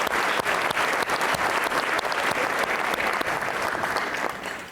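A large audience at the San Marcos 2019 State of the City event claps steadily for elected officials, dense sustained applause with sharp individual claps standing out, tapering off at the end.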